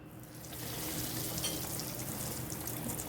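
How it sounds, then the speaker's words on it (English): Breadcrumb-coated tikkis frying in hot oil, giving a steady close sizzle that swells after a quiet first half-second and then holds as an even crackling hiss with no talking. "So now let's fry it."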